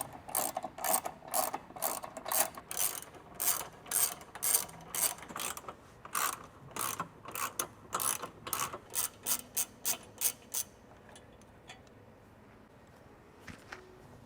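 Ratchet clicking while 10mm bumper bolts are backed out of a 2022+ Toyota Tundra front bumper, delivered as a long run of quick, close, crisp bursts in an uneven rhythm, then tapering into near quiet with a couple of faint final clicks.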